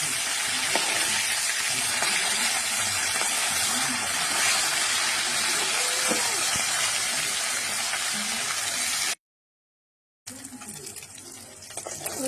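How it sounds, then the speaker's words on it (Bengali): Fish frying in a small pan give a steady, close hiss and sizzle of hot oil, broken by a short silent gap near the end before the sizzling resumes. "তো আমি 4টে থেকে মাছ ভেজে দিচ্ছি।"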